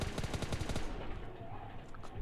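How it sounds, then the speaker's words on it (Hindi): Rapid single-tap gunfire at a bot in PUBG Lite, a quick run of about a dozen sharp shots in the first second, then only faint game ambience and a couple of soft clicks. "उसको मैं सिंगल पे टैप कर करके मारता हूँ"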